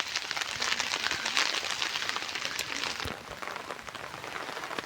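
Steady rain falls on tea bushes among the hill estates of Valparai, a dense, even hiss of drops on leaves that stays close and fairly loud throughout, easing slightly near the end.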